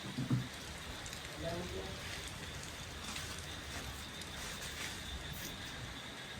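Faint, steady patter of rain falling on surfaces, with a brief murmur of voices near the start and soft background hiss.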